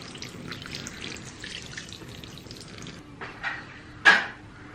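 Water poured over freshly planted broad beans in a garden, a steady splashing trickle running for several seconds before easing off, with a few brief clatters and a sharp knock near the end.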